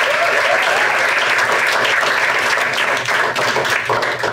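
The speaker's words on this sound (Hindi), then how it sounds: "एक बार अपने ताली बजा दूँ।" A stand-up comedy audience breaks into sustained applause, a dense, even wash of many hands clapping at full volume that holds steady for several seconds without pause.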